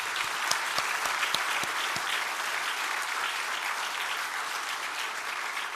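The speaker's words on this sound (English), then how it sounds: "Can we give them a round of applause, please?" Audience applause for sponsors at a panel event: a loud, sustained crowd clapping that holds steady and unbroken for several seconds with a few sharper individual claps early on.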